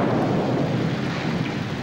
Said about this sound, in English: it was raining hard.